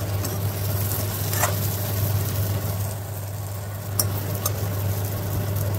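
Bitter gourd pieces cooking in hot oil, a steady close sizzle and crackle with a few light spatula clinks, no talking.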